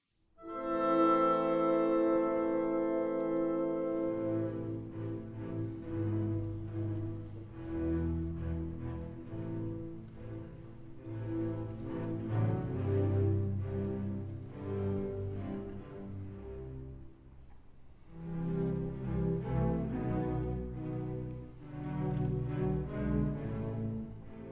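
An orchestra plays the opening theme of the second movement of Beethoven's Seventh Symphony, a steady long-short-short pulse in low strings that swells and thins, with a brief hush before the music returns.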